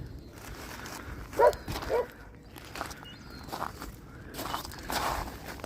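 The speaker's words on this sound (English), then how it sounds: "People coming along with their dogs, so I'll let them run past and then we'll come." Dogs trotting past along a riverbank, with faint footsteps and a couple of brief yips or barks at moderate distance over quiet outdoor ambience.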